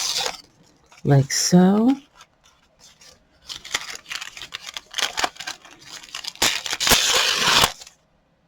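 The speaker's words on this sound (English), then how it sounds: "what I want to do is rip these pages just a little bit" Journal pages ripped by hand, a few bursts of dry tearing and crinkling paper, close and fairly loud, with a person talking briefly before them.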